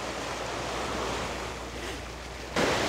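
Sea waves wash continuously against the south breakwater, a dense, steady roar of surf mixed with wind buffeting the microphone, growing briefly louder near the end.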